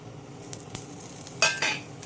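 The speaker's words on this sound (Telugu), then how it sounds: "కరివేపాకు, ఈ పచ్చిమిరపకాయ కూడా వేసేద్దాం." Curry leaves and green chilies drop into hot tempering oil for a pepper rasam, giving a soft sizzle with light stirring taps and a sharper crackling burst near the end, close and fairly quiet.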